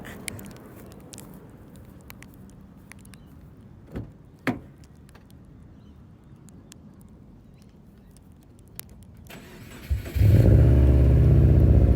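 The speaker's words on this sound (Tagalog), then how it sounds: "Gusto ko i-start yung kotse. Para marinig yun naman yung tunog." A car engine cranks and catches near the end after a long quiet stretch with a few small knocks, then runs loud and steady close by.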